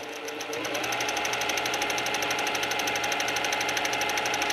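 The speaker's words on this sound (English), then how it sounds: "I'm going to go sew all the way to the end." A sewing machine fitted with a quarter inch foot stitches fabric for a quilt block at a stitch length of about 2 mm, a steady, fast, even whirring hum with rapid needle ticks that continues alone without talk.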